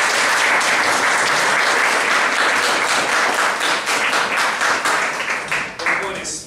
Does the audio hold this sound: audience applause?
yes